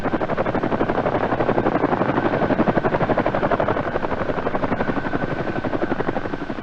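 A CH-47 Chinook helicopter hovers during an airlift of a Chaparral air defense system, its twin rotors producing a loud, steady, rapid chopping thump that fills the air without pause.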